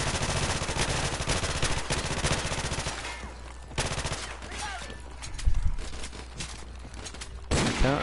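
Gunfire in the Call of Duty video game: dense bursts of automatic fire in the opening seconds, then scattered, fainter shots and impacts, with a sharp burst at the end.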